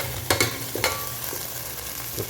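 Whole spices for beef biryani sizzle in hot fat: cinnamon, cloves, cardamom, bay leaf and pepper. A low, steady fry sounds close by, broken by a few sharp spoon clicks and stirring knocks.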